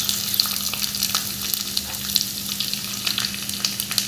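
Mustard seeds, cumin, curry leaves and garlic sizzle in hot oil as a tadka for dhaba-style dal fry, giving a close, steady crackling fry with small pops and no talk.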